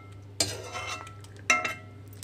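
Fried lentils and dried red chillies are scraped from a pan onto a plate, two sharp metallic clinks of a spoon against cookware followed by short rattling scrapes, close and fairly loud against a low hum.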